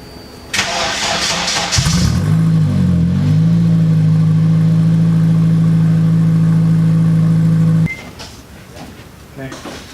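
A Honda Civic engine cranks with its fuel pump relay pulled, so it never fires. The starter whirs steadily and loudly for several seconds, then cuts off abruptly.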